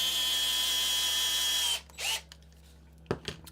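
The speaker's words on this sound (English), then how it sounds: "is that drill not like the absolute worst thing you've heard?" A power drill whines steadily at close range, then cuts off. A few short, muffled bursts of tool noise follow, with no talking.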